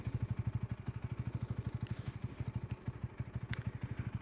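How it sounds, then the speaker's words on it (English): A Honda Rebel motorcycle starts up and settles into a steady, rapid low idle thump, close and continuous, with no talking over it. "Now I turn on the bike and it's going to start blinking a lot faster."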